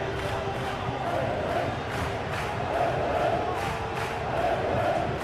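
A stadium crowd in a PES football match between Athletic Club and Barcelona, a dense continuous roar of chanting and cheering that swells in waves, with commentary voices underneath.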